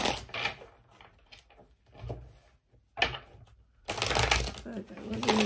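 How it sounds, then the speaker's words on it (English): A tarot deck is shuffled up close in quick riffling bursts, with crisp flicking and snapping card sounds, short pauses between bursts and a long, dense burst at the end. "I need a good shuffle today"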